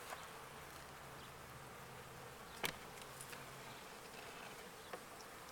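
Honey bees buzz at an open hive during a January inspection, a dense continuous hum of many insects, faint and steady, with an occasional sharp click.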